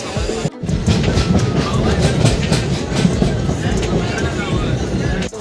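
A moving passenger train gives a loud, steady rumble with rhythmic clickety-clack from the wheels, filling the whole clip after a brief break near the start, with faint chatter mixed in.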